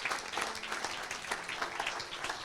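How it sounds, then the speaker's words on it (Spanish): A church congregation claps in steady sustained applause, a dense wash of many hands filling the space at moderate volume with no talking over it. "How many of you can give an applause to the King?"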